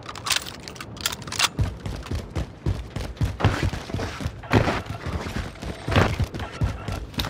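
Gunshots in Call of Duty Modern Warfare crack out in irregular clusters of sharp, punchy reports, some close and loud, others softer and more distant.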